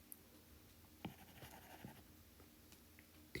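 Faint scratching and tapping of a pen or chalk writing out a Taylor expansion by hand, soft close strokes with a few sharper taps over a quiet background.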